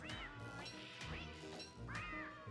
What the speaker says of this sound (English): it takes 3 slingshot marbles to kill a cat